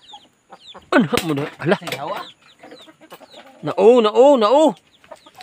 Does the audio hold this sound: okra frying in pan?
no